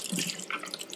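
Tap water runs into a sink while squash is rinsed for frying, a steady close splashing with small droplet patters, no voices.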